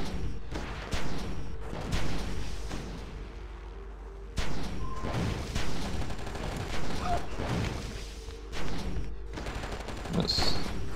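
Gunfire in the video game Oni: repeated bursts of shots spread across the stretch, loud and close, with brief gaps and one sharper high crack near the end, set over a steady background hum.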